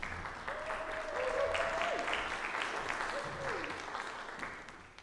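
A church congregation applauding after a dedication at a service, a steady wash of clapping from many hands that swells and then slowly tapers off, heard from a moderate distance.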